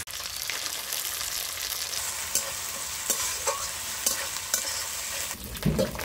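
Onion paste frying with ginger-garlic paste and green chilli paste in oil in a kadai: a steady close sizzle with occasional spoon scrapes and stirring knocks throughout, no voices.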